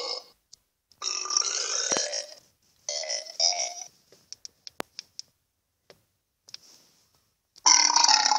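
Cartoonish burp sound effects from the Burp and Fart Piano mobile game play in several loud bursts separated by light tapping clicks, with a final burp at the end.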